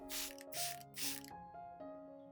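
Three quick hissing sprays from a spray bottle onto Zamioculcas plant leaves in rapid succession, close by, over a faint steady tonal hum.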